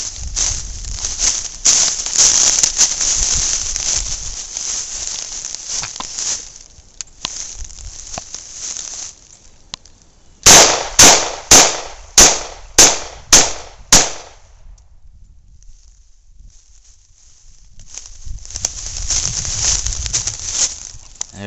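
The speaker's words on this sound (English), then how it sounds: "let's see how many rounds of 45 it will take to completely just destroy the melon" .45 ACP rounds are fired into a melon outdoors: seven sharp, loud shots in quick succession, set between stretches of wind noise.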